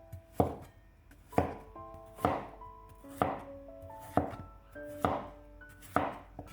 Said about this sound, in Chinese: 从中间对半切开，再改刀给它切成小块